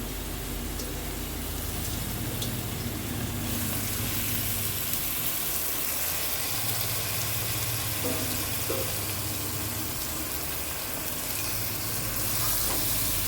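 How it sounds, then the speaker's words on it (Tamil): Marinated quail pieces sizzle and fry in a pan with softened tomatoes, a dense, steady crackling hiss close by with faint stirring scrapes and no talk. "இப்போ இந்த ஸ்டேஜில் இந்த மேரினேட் பண்ணி வச்சுருக்க காடையை நான் போட்டுக்கிறேன்."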